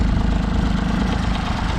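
A John Deere 322 lawn tractor engine idles close by, a loud, steady burbling rumble with an even pulsing beat and no voices over it.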